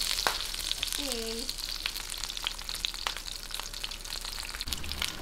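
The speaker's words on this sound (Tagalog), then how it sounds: "ngayon prituhin lang po natin tong ating pork belly" Pork belly fries skin-down in a pan, a dense, crackling sizzle with sharp spits and pops throughout and a short tonal squeak near the start.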